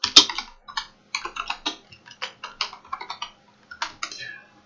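Keys clatter on a computer keyboard as a page heading is typed, with short irregular bursts of crisp clicks, close and clear in a quiet room and no talking over them.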